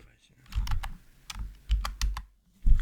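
Typing on a computer keyboard in short bursts of key clicks with brief pauses between them, close by and fairly clear.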